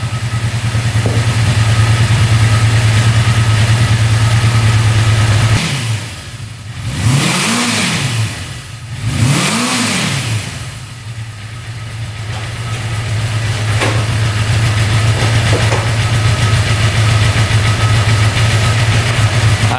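A motorcycle engine idles steadily after a throttle adjustment, briefly cut off twice by short revving swells, then settles back into a smooth, even idle close by.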